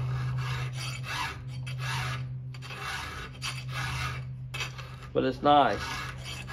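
A file rasps by hand across a chainsaw chain on an Oregon 100 ft reel, making repeated gritty strokes close by in a steady back-and-forth rhythm over a low hum, before a voice briefly speaks.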